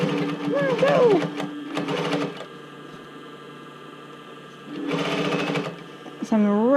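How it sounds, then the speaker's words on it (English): A sewing machine stitches along the edge of a bra cup in two short bursts of rapid mechanical whirring, with pauses between and voices heard over it. "I'm actually just going to go around and stitch right on the edge of the cup"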